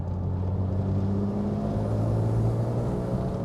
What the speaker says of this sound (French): la sonorité du 6 cylindres BM en Atmo